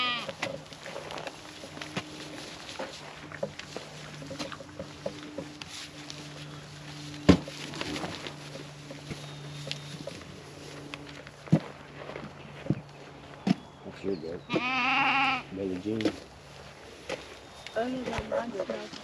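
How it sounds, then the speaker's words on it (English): Goats bleating on a farm, a few short calls scattered through light movement and footsteps, with one louder, closer bleat near the end while a person talks. "these goats love them"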